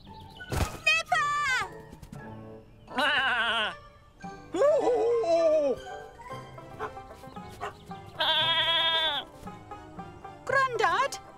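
A sheep bleating repeatedly in a cartoon farm scene, a series of loud, wavering bleats alternating with pauses and a thunk, close to the listener.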